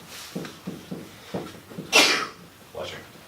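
A single loud sneeze bursts out midway, close to the mic, surrounded by soft murmuring and breathy background sounds.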